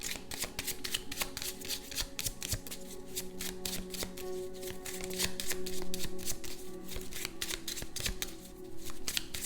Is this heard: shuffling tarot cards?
yes